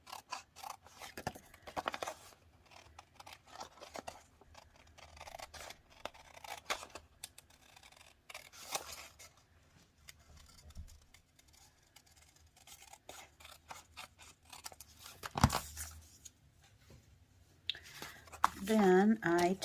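Scissors snip around the edge of a paper greeting card, a scatter of brief crisp cuts in irregular bursts under quiet background noise, with a louder rustle near the end.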